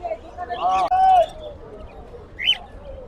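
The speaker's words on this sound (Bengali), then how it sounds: "খুবই সুন্দর কিছু ককাটেল পাখি দেখতে পাচ্ছেন এখানে" A few bright, warbling cockatiel calls and chirps ring out close by, with a higher squawk near the end, over a faint murmur of background voices at a bird market.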